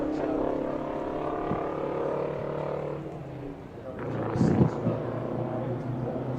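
A 1980 Kenworth W900 big rig races around a stadium speedway, its engine giving a steady droning roar with harmonic tones that surge louder toward the end.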